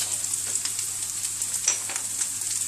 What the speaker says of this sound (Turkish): Kavrulmaya başlayan kıymamıza tuz